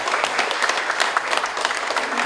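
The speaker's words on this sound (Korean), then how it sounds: "박수." Audience at a Korean book launch for a full-length novel breaks into dense, steady applause, a full room of hands clapping continuously at close range with no voices over it.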